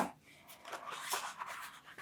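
Paper is folded and creased by hand with a bone folder while making an accordion-fold book, giving a run of close, dry scraping and rubbing strokes that rise and fall in quick bursts.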